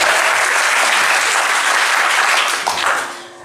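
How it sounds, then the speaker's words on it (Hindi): Loud, dense audience applause at a live poetry performance, a continuous wash of clapping that tapers off near the end. "तालियां बजा दो आखिरी की।"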